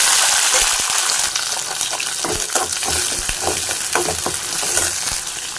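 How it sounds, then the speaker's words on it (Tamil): Shallots, bay leaf, stone flower and curry leaves fry in hot oil for a mutton curry, giving a loud, steady close-up sizzle with stirring scrapes and clinks throughout, no talk. "அடுப்பில் எண்ணெய் காஞ்சிச்சு அது கூட சின்ன வெங்காயம் பிரிஞ்சி இலை கடல் பாசி கருவேப்பிலை எல்லாம் போட்டுக்கணும்"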